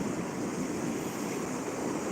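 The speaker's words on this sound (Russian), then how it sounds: "Вот такие вот волны тут бьются." Sea waves break on the shore at Yalta at night, a continuous, full wash of surf close by, mixed with some wind rumble and no talking.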